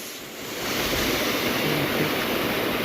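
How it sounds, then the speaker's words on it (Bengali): A waterfall pouring down from a height where people bathe, a loud continuous roaring wash of falling water that swells after the first moment and holds steady. "এখান থেকে পানি পড়ে যাচ্ছে"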